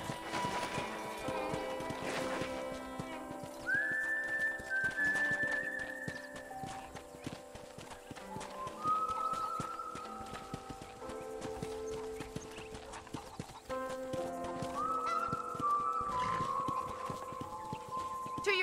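Steady clip-clop of horse hooves walking at an even pace in the Red Dead Redemption video game, heard close and mid-level, with a few soft whinny-like tones and faint background sounds but no talking.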